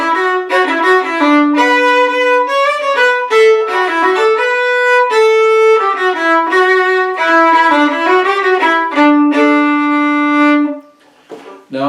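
A solo fiddle plays the first half of an instrumental: a lively, continuous bowed melody of quick notes, loud and close, that falls briefly silent near the end.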